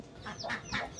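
Chickens cluck softly on a farm, a few short rising calls from a bird or two, faint and fairly close.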